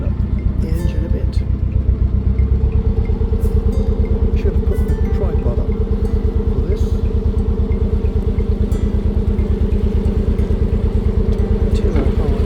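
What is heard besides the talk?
narrowboat engine revving on the river Thames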